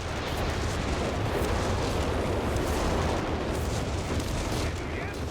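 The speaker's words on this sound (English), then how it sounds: "4 shells land on the building, 1 shell lands over here." Artillery shells landing in the strategy game Company of Heroes 3, a loud rumbling barrage of blasts and rolling impacts blending into a dense, continuous roar with no clear gaps.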